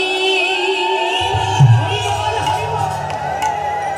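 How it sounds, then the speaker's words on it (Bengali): A kirtan crowd in Nadia raises wavering ululation and Hari chanting, sustained tones swelling together with a low rumble joining partway through, loud and close. "উলুধ্বনি হরির ধ্বনি"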